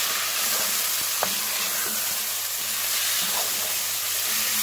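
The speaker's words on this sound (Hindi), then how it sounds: "इसे अच्छी तरह से भून लें" Chicken and salt frying in a pan, stirred as it browns for a restaurant-style mixed vegetable dish: a steady close sizzle with scraping stirring strokes and an occasional light knock, no voices.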